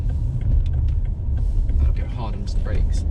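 A BMW 530d M Sport Touring, a 3.0-litre diesel estate of 261 bhp, pulls in with a steady low engine rumble heard from inside the cabin, with someone talking over it.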